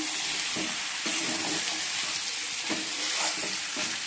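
Chicken curry with potatoes frying in a pan, giving a steady, dense close-up sizzle with soft stirring scrapes every second or so and no voices.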